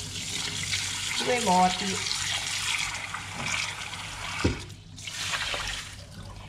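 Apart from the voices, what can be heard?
washing sticky rice in water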